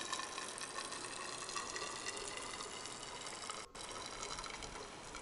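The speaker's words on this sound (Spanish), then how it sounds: "el tubo de vidrio recibe el mercurio con un chorro muy fino" Mercury poured in a very fine stream from a syringe into a glass tube, a continuous thin trickling and gushing sound that runs steadily throughout with one brief break near the end.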